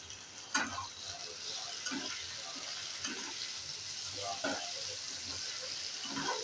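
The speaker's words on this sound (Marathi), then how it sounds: "गॅस थोडासा मोठा करून मी परतून घेते" Tadka tempering sizzles in a pan over a raised gas flame for tomato chutney, a steady frying hiss with several short stirring scrapes, moderately close, with faint talk in the background.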